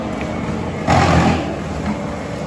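A mulcher grinds through a six-inch deadfall tree lying on the ground, a steady loud machine roar with a brief surge in the middle, heard alone.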